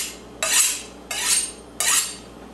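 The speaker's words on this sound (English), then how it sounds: "So let's get going, and we will chop some onions." A large straight-bladed knife chops onions on a board, giving three crisp, evenly spaced strikes about two-thirds of a second apart, close and clear in a quiet room.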